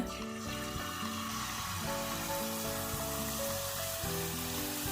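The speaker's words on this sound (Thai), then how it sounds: "เทคนิคในการทอดไข่เจียวให้กรอบฟูน่าทาน คือต้องใส่ไข่ตอนที่น้ำมันร้อนจัดๆนะคะ" Egg batter for a Thai cha-om omelette hitting very hot oil in a pan, giving a loud, continuous crackling sizzle that runs steadily throughout beneath background music.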